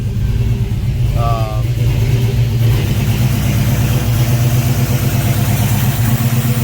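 A Chevrolet Trailblazer SS engine idles close and loud with a steady low rumble and even pulsing throughout. A voice is briefly heard over it.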